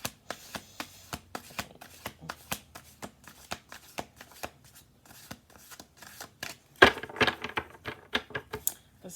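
A big deck of playing cards shuffled over and over in quick, rhythmic riffles that finish in a louder burst of flicking cards, close and clear with no talking.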